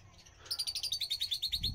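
Lovebirds in a breeding collection give a rapid run of bright, high chirps in an even rhythm, close and moderately loud, beginning after a short quiet lead-in.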